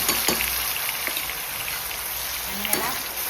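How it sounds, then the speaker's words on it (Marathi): Tomato and onion puree hitting hot oil in a pan, a dense, steady sizzle up close for a few seconds with a couple of sharp spatters and clinks. "त्याच्यामध्ये टोमॅटो आणि कांद्याची प्युरी टाकून छान असं परतून घ्यायचं आहे"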